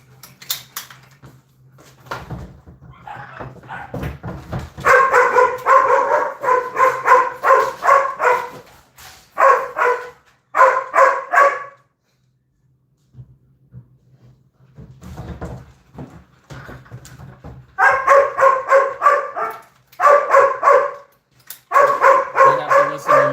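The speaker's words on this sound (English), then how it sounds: "I have to listen to Lulu bark a little bit if she gets in the mood" Dogs barking indoors, in close, loud bursts of repeated barks with short pauses between, separated by a quieter stretch near the middle.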